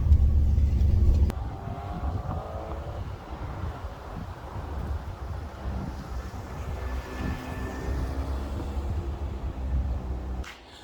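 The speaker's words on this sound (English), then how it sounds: "It's driving okay." A restored Alfa Romeo 145 Cloverleaf on the move, heard from inside as a steady engine drone with road and wind rumble. A louder passage opens the clip, then the level holds fairly constant.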